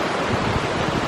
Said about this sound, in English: Every waterfall we see is a totally new experience.